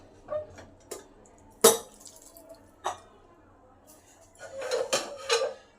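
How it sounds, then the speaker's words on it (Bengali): A pressure cooker of rice payesh is opened after the steam is released, with a few separate metallic clanks and clinks of the lid and pot, near and distinct against quiet. "এবার ঢাকাটা খুলে দেখি ভিতরে কি অবস্থায় আছে।"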